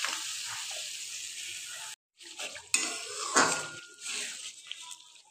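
A tomato and cumin seed paste fries in a pan while a spoon stirs it, making a close, crackling sizzle with clinks and scrapes against the metal, broken by one brief pause.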